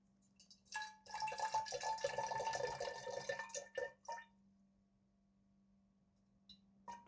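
Water is poured from a container into a vessel set on a kitchen scale, measuring out about 100 ml. The pour is steady and close for about three seconds, then trails off into a few drips and near silence.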